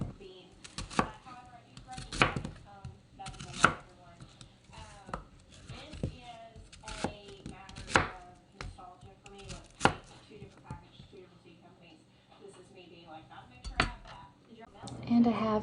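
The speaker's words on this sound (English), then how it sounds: "I chopped up 1 large onion" A knife chops a large onion on a board in a home kitchen, a steady run of sharp, close thuds with short pauses between bursts.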